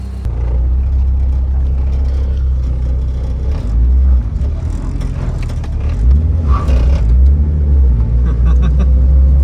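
A 2018 Subaru BRZ tS sports car engine rumbles deep and loud, revving up in surges as the car drives, with scraping and road noise mixed in.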